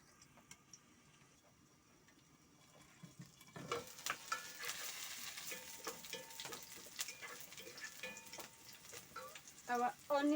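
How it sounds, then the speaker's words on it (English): Onions sizzle and fry in a covered pot during traditional home cooking, starting quiet, then a steady close crackle with scattered pops and clicks that grows louder toward the end. "this is onion cooking"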